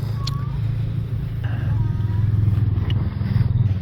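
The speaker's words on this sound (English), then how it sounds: "John Deere 630" A John Deere 630 tractor engine runs steadily at a farm equipment show, a low continuous rumble that swells slightly toward the end, with faint crowd talk and clatter around it.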